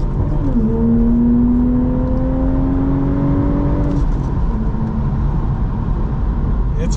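A Toyota A90 Supra engine accelerating hard with rising, whirring revs close to the microphone, then the pitch drops off after a few seconds while the loud drone of the car continues steadily.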